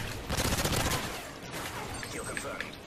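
Rapid automatic gunfire and overlapping shots from a Call of Duty: Modern Warfare 3 match, loud and dense in the first second, then thinner bursts continuing under game noise.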